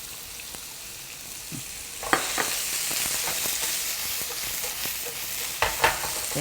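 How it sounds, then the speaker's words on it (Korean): Salted cucumber strips go into a hot pan with their brine and about a tablespoon of cooking oil and are stir-fried over high heat. A steady sizzle breaks into louder crackling bursts as they are tossed, with no talking. "새파랗게 맛있게 볶도록 하겠습니다. 불의 세기는 센 불입니다."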